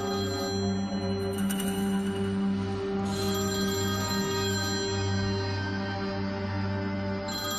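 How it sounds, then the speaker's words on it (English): Steady electronic telephone ring in a mob-era crime drama set in Chicago, a continuous warbling tone running the whole time over a low hum, fairly loud and with no talk. "one phone call changes everything."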